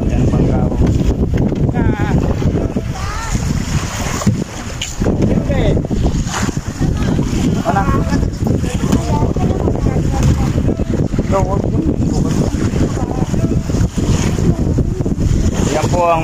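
A boat motors across open water on Laguna Lake with strong wind buffeting the microphone and a constant engine drone, while people talk over the noise.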